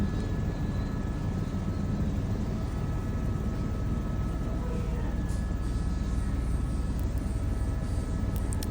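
A helicopter touches down at the end of a ten-minute sightseeing flight over Dubai, its steady engine and rotor roar loud and close inside the cabin throughout, with a faint voice briefly audible beneath it.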